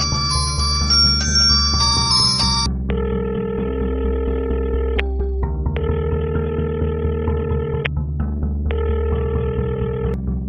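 A phone rings repeatedly in regular electronic bursts with gaps between, in a Hindi film scene, while a steady musical hum continues underneath and nobody answers.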